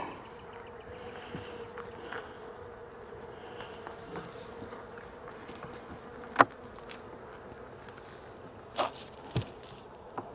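Honeybees hum steadily around a freshly opened farmhouse beehive, a continuous close buzz with a few sharp knocks and bumps from the hive work.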